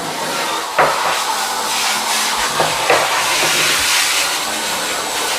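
Electric spin scrubber fitted with a flat scrubbing head, running on low against a shower floor: a steady broadband whirring hiss with a few brief louder scrapes, close and continuous.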